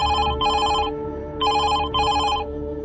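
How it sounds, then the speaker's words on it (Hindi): Mobile phone ringing as a sound effect in a horror story, a loud, close electronic ring in two repeated double bursts with brief pauses between them. "उसी समय वर्षा की मोबाइल बजने लगा"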